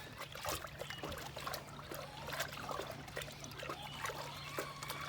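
Neem oil mixed into water is stirred in a container, with soft trickling and sloshing splashes that come in an uneven rhythm, faint and close, with no voices.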